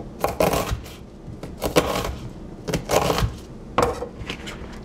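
Diced yellow onion drops into a mixing bowl for veggie quesadillas with cheese, corn, black beans and zucchini. Several close, bright rattling clatters come in irregular bursts, each lasting under a second, with no one talking.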